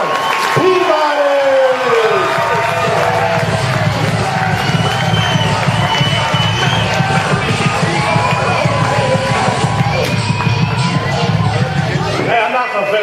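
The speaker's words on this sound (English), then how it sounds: "Let's start clapping your hands right now." A comedy-club audience cheers, whoops and claps for a comedian taking the stage, a loud, close roar of yells and applause with shouting voices over it before it fades at the end.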